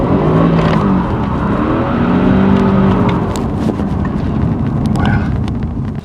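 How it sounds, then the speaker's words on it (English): A BMW at full throttle in drive with performance mode engaged, engine climbing toward about 5,900 RPM before shifting into the next gear; a loud, close, continuous engine roar rising in pitch with some wind rush and no talking. "let's plant the throttle. Wow, we're going."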